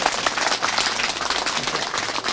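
Applause from a gathered crowd in a village, brisk dense clapping sustained for a couple of seconds at moderate distance, with no voices over it.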